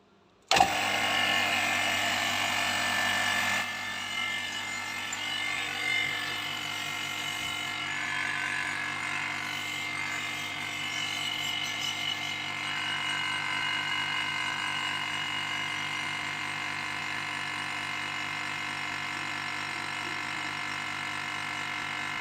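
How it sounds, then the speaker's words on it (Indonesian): A vacuum pump hooked to manifold hoses runs with a steady, continuous mechanical drone during repair of an LG two-door refrigerator that is not cooling. It starts abruptly and holds an even hum with slight shifts in tone. "Dan kita hidupkan pada mesin vakumnya."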